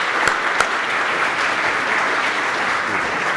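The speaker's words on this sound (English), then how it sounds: "Can I have a round of applause for Professor Goldfarb," Audience at a Chicago conference applauding, a dense, steady burst of clapping from a crowd with a couple of sharper claps near the start.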